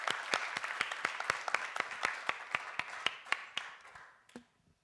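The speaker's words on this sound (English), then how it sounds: "A huge applause for Susanne." A conference audience at a scale-up pitch event claps for a presenter, sparse and fairly even, with individual claps distinct, tapering off and fading to silence at the end.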